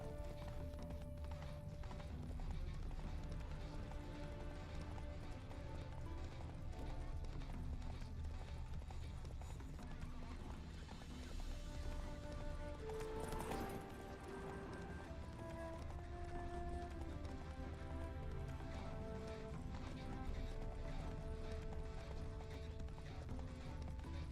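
Steady clip-clopping horse hooves run continuously beneath a layer of game music, moderately loud and unbroken, from The Witcher 3: Wild Hunt.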